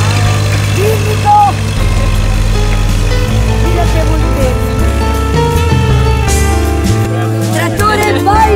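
A tractor engine idles steadily throughout, a loud close low rumble with a harmonic drone and slight shifts in pitch, while people speak over it on an outdoor film set.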